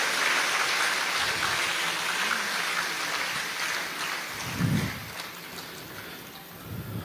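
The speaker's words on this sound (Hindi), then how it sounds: "पुनः सब एक दूसरे के उत्साहवर्धन में तालियों की गड़गड़ाहट कर रहे हैं।" Audience applause at a spiritual gathering marking a guru's appearance day: continuous, even clapping from a crowd, a soft wash throughout with a short louder thump midway.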